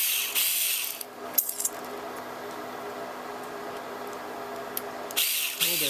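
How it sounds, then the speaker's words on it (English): An electric screwdriver drives a screw into the system board of an HP DL380 G6 server, a steady close whirring hum lasting several seconds between sharp metallic clicks and handling sounds. "There's an awkward angle for an electric screwdriver."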